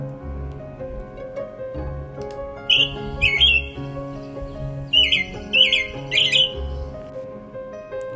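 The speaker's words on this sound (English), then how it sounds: "The robin's rich caroling is among the earliest bird songs heard in the dawn of spring and summer" American robin singing in short, bright repeated phrases, close and clear over a soft, steady musical background.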